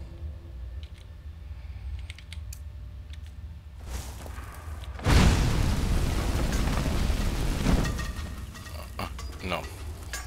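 Fire destruction spell cast in Skyrim, a sudden roaring whoosh that swells near the five-second mark and burns steadily for a few seconds before fading, with a player talking and keyboard clicks around it.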